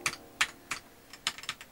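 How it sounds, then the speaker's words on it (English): Typing on a RoyalAxe L98 keyboard with Gateron yellow switches and a PC plate: about seven sharp, close keystrokes in an irregular rhythm, the last few coming in a quicker cluster. "it has a has that yellow, that Gateron yellow sound, but because we have the PC plate"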